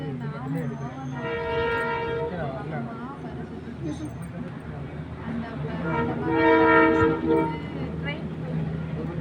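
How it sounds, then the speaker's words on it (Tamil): A train rumbles past nearby in Karaikudi, India, while its horn blows twice in long tones, with people talking over the noise. "ட்ரெயினே இருந்தால் போகுது, சவுண்ட் கேட்குதானே?"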